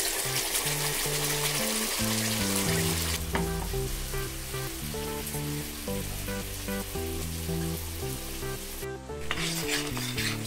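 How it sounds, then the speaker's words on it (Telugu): Ground coconut and sesame paste frying in oil while being stirred for a fish curry, a steady sizzle with scraping stirs throughout, under continuous background music. "1, 2, 3 స్పూన్ ఆయిల్ మనము మిక్సీ పట్టిన పేస్ట్ని వేసుకుందాం."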